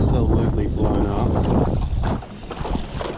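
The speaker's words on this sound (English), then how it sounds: "The wind has absolutely blown up." Strong wind buffets the microphone on a Hobie Lynx kayak out on the water, a loud, rough roar that stays dense throughout and eases slightly near the end.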